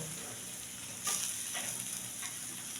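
Ghee added to a radish dish frying in a pan, a sudden bright sizzle that swells and then settles into a steady hiss, fairly quiet and close.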